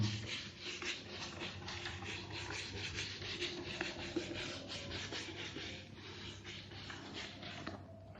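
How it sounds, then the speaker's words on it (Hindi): A continuous dry scratching rub, like a board being erased during a math lesson, carries steadily through the clip at low level without talk. "तो मैं रब कर रहा हूं"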